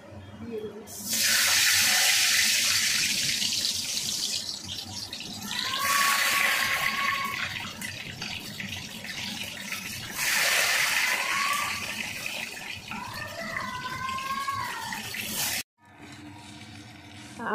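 Hot water is poured into a pan of cooking potatoes in a wok where eggs were fried, giving three long loud bursts of gushing, splashing water with sizzling hiss, separated by brief quieter gaps.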